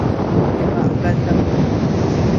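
Strong wind buffets the microphone over steady surf on Long Beach in Palawan, the roar broad and constant throughout with no pause in the rush of waves and gusts.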